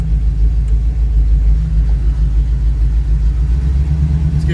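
A Camaro under restoration drives in a low gear, its engine producing a loud, steady, deep rumble that runs unbroken throughout, close to the listener.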